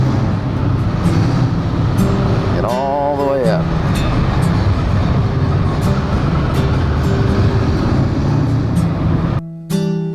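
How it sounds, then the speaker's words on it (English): Two Harley-Davidson motorcycles idle aboard a ferry in Washington, one close in front and one behind, making a loud, continuous low rumble. Someone speaks briefly over the engines. "A little noisy in here, but because I've got two Harleys, one in front of me and one behind me"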